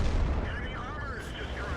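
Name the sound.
tank shell hitting enemy armor in a video game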